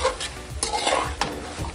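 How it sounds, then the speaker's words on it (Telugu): Yogurt stirred into vegetable dum biryani masala, a close wet scraping and squelching with a few spoon strokes against the pot over a faint sizzle. "పెరుగు వేసుకొని ఈ విధంగా కలుపుకోవాలి"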